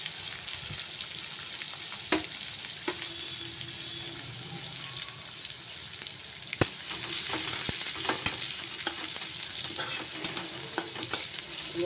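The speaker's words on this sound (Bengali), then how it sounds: "এবার আমি দিয়ে দেবো কেটে রাখা পেঁয়াজ, দিয়ে দেবো রসুন কুচি" Chopped onion and garlic fry in hot oil, making a steady crackling sizzle up close, punctuated by scattered clicks and scrapes of stirring against the pan.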